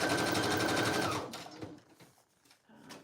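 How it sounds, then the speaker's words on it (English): A sewing machine stitches a pocket onto fabric, running in a steady, fast buzzing whir for about a second before stopping, followed by quiet handling clicks and rustles. "I am going to sew it on still"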